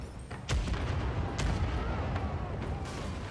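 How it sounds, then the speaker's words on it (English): Forward ship cannons fire in the naval combat of the video game Pillars of Eternity 2: Deadfire, several loud booming shots spaced across the moment, each with a sharp attack and a rumbling tail. "Okay, forward cannons."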